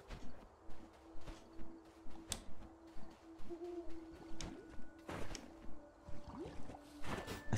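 An owl hoots in the video game Death's Door, a soft, low call repeating over a steady, rhythmic in-game ambience of pulsing beats and faint clicks.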